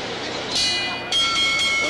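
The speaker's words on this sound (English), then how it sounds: "The bell for round two." A boxing bell at the Joe Frazier versus Muhammad Ali fight rings out for round two in a series of bright, sustained metallic strikes, carrying over steady crowd noise in the arena.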